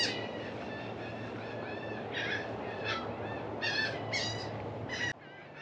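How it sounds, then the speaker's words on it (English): Laughing gulls call outdoors in the Florida Keys, with a handful of harsh, bright calls at uneven intervals across a steady low rumble of wind or water, fairly close and clear, and nobody talking. "There's more laughing gulls out here."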